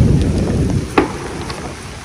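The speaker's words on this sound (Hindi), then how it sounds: "लगातार बारिश" Heavy, steady rain pours down at a hilltop fort, a dense continuous hiss close by with one brief sharper knock partway through, no voices.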